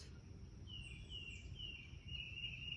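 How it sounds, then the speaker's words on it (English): Outdoors on a warm, breezy day in Arkansas, a bird lets out a few thin, high chirps and a drawn-out whistle, faint and somewhat distant over soft rustling background noise. "Sound of the birds."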